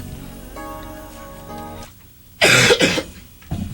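A couple of loud, harsh coughs burst out after a quiet stretch of faint background tones, followed by a shorter third cough.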